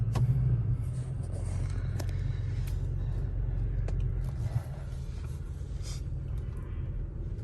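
A Toyota Tacoma with an Overland torque tune cruising on the road, heard from inside the cab as a steady low engine and road rumble with constant tire noise and no talking.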